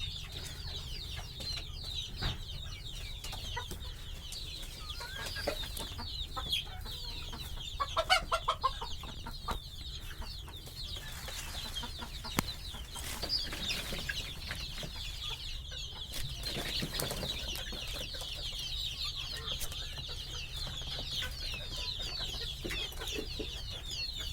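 Chickens cluck and murmur softly throughout, a few birds near, with occasional louder clucks over a quiet rural background and no talking.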